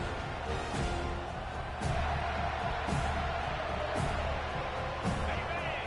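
A stadium crowd at a college football game between Wake Forest and Florida State gives off a broad sustained roar, with a few sharp thuds and bursts of cheering scattered through the din.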